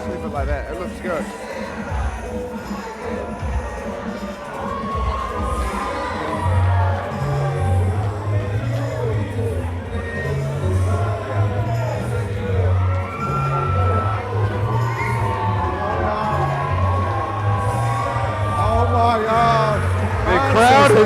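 A boxing arena crowd at a New Zealand title fight roars and whoops steadily throughout, a dense wall of cheering and yelling with a commentator talking over it and a thumping beat beneath.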